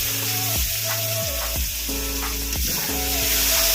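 Spices sizzling in a pot for chicken biryani: a continuous close hiss with occasional stirring scrapes beneath a loud stepping melody, and no one talking.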